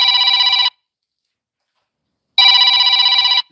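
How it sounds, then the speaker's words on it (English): A telephone rings in a garage workshop in two electronic trilling bursts separated by about two seconds of silence, loud and close with no talk. "Just ignore the phone."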